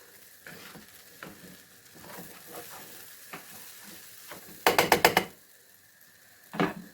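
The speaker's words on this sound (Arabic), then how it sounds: "هقلبه بقى كده تقليبه واحده صغيره." Food being stirred in a pan while preparing a KFC-style rice dish, with soft scraping and light clatter, then a sharp rattling burst of quick clicks, and a final short scrape.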